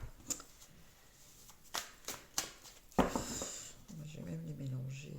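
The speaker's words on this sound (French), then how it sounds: "je mélange, je mets les cartes au hasard" Playing cards being shuffled by hand at a table, giving several crisp riffles and snaps, then a steadier rustle, close and moderately loud. A low hum or voice-like tone enters near the end.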